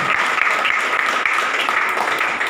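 Loud, steady applause from an audience at the opening ceremony of an education centre in Faridabad, a dense wash of clapping sustained for the whole span with no voices over it.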